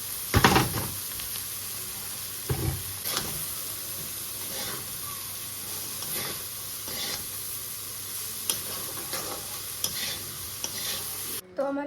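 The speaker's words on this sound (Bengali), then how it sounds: "আর এখন আমি এই যে শাকটা রান্না করছি" Bitter greens (tita shak) are stir-fried in a pan at home, a faint steady sizzle broken by occasional soft scrapes and clacks of the spatula.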